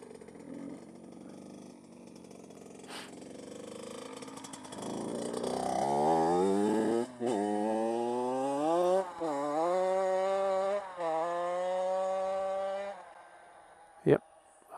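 A motorcycle ridden along a gravel path approaches and passes close by, its engine note rising and climbing through several revs and gear changes, loud at its nearest before a sharp knock near the end.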